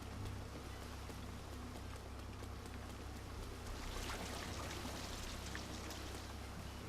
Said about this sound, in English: I can get up there by swimming up the waterfall